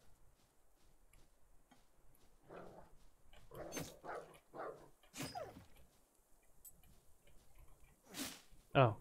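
A dog in the Dysmantle video game gives a few short barks spread across several seconds, faint to moderate and separated by quiet gaps, with talking around them.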